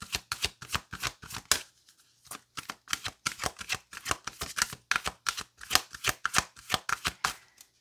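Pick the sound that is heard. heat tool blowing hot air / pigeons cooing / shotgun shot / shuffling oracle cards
shuffling oracle cards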